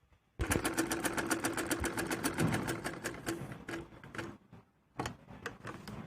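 A sewing machine stitching palazzo pants from plain fabric at home runs in a steady rapid clatter for about four seconds, pauses briefly, then starts again, loud and close.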